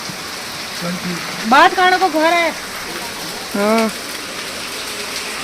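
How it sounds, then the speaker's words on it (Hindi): Heavy rain falls steadily in the mountains, a continuous hiss beneath two people talking briefly in Hindi. "पर बारिश नहीं रुक रही भाई"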